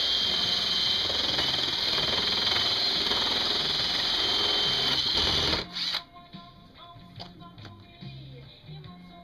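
A power drill with a 1.25-inch spade bit bores into irrigation pipe, giving a loud, steady, close whine that runs for over five seconds, then cuts off, leaving quieter scattered handling sounds.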